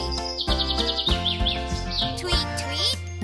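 Cartoon bird chirps and tweets ring out in quick high bursts over bouncy children's farm-song music, with brief voice-like sounds mixed in.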